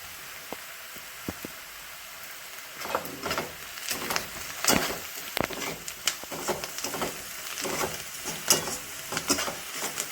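Potato curry with turmeric stirred in a pan, a scraping, gently sizzling stir with irregular spoon clatters that build after a quiet start, close by with no talk.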